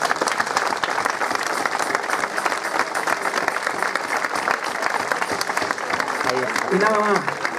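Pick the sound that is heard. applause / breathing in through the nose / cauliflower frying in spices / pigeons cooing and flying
applause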